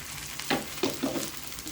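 Fasting dosa batter ladled onto a hot tava gives a soft, steady sizzle with a few short scraping bursts close by, no talking.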